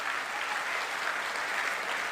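Continuous, even applause from an audience at a seminar event, dense clapping sustained throughout without talk.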